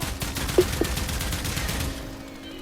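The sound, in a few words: Kuva Kohm rapid gunfire in Warframe video game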